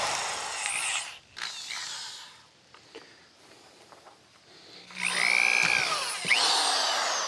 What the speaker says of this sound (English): I guess I could pre-drill them.